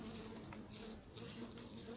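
A faint, close honeybee buzz at an apiary in Crosne, France hums continuously, with small soft patters and flickers, no voices.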